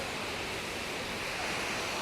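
A waterfall near Munnar, a dense, even rush of falling water, steady and continuous with no pauses.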